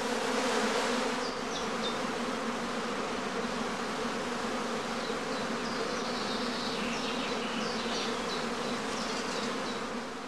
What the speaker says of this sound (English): In a large home apiary like this one, several swarms may emerge almost simultaneously.